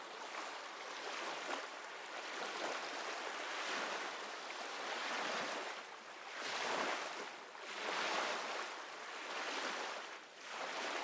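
Atlantic Ocean waves roll in and wash out in slow surges, a soft broad rushing that swells and fades every couple of seconds, heard at a distance with faint wind.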